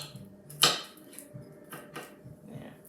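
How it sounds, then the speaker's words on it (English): A knife chops fresh garlic on a board for a chilli, giving a few sharp, sparse knocks, one louder strike followed by lighter taps. "So, I'm chopping up fresh garlic here."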